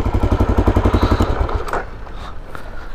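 A 1996 Aprilia Pegaso 650 motorcycle thumps along with a rapid, pulsing single-cylinder beat, loud and close for the first half before easing off to a quieter, rougher idle.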